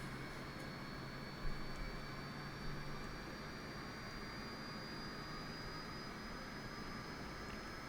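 A Boeing 747-8 jet engine running in Microsoft Flight Simulator, a steady broadband turbine roar with a faint high whine, continuous and even throughout, with a couple of soft clicks.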